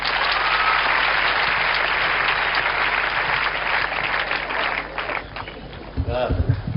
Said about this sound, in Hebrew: תנו קצת כפיים